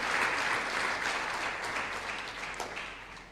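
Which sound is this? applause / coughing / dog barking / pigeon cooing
applause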